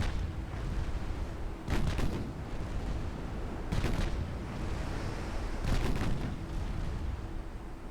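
Warships fire AP shells in a British naval video game campaign, with three heavy booming salvos roughly two seconds apart over a constant background rumble, distant-sounding and unaccompanied by talk.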